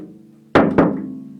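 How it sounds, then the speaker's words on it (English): Two quick hollow knocks on the wooden back of a cello, each a woody thunk followed by a brief resonant ring from the instrument body, close and clear with no speech. "if you just knock the back of your cello"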